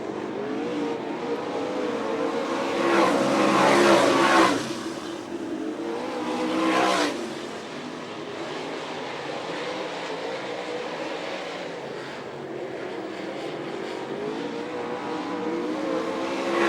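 Sprint race cars roar off at the start of a trailer dash at Fremont, Ohio, a loud engine surge that swells, fades and swells again, then settles into a steady, distant multi-car drone.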